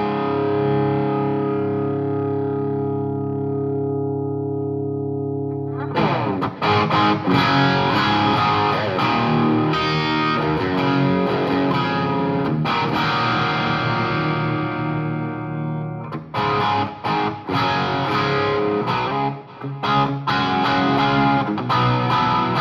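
Electric guitar played through a Ground Zero Ampworks Hellion 100 amp, switching between neck and bridge pickups for bluesy tones with a fattened, gained-up sound: a sustained chord rings out, then loud, busy distorted riffing with short breaks.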